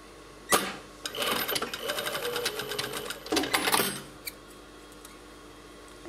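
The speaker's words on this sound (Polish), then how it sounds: "przeszywam w tym miejscu, gdzie idą te nitki od igieł w overlocku, dlatego on już się nie rozpruje." An overlock sewing machine stitches lace shorts in a short, fast whirring run of about three seconds, close and fairly quiet, with a few faint clicks before and after.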